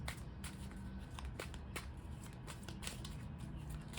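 A deck of oracle cards is shuffled by hand in quick, soft riffling flicks that repeat at an irregular rhythm, faint and close.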